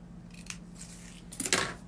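Scissors snipping through felt, a faint close snip followed by a slightly louder double cut near the end, against a quiet background.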